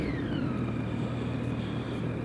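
Triumph Street Triple R motorcycle with stock exhaust at highway speed, a steady engine drone with a slowly falling whine under heavy wind rumble, continuous and close.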